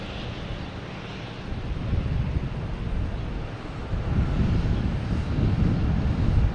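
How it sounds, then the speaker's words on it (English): An Air Canada E175 airliner arrives from Toronto at Boston Logan, a low engine rumble with wind buffeting that grows louder toward the end. "next to come in is a Air Canada coming in from Toronto"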